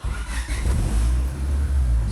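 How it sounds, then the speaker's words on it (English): Close, loud car engine with a stock air intake revving up, a deep rising roar held high, with no talking. "I want to get a good comparison of what it sounds like with a stock intake"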